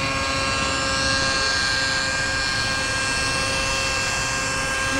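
A palm-sized Xieda 4-channel RC helicopter hovers close by with a steady, high-pitched whine from its small motor and rotor, constant in level and with no talk.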